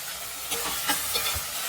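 Onions sautéing in oil in a pan for chicken gravy, a steady close sizzle and hiss with faint stirring scrapes throughout.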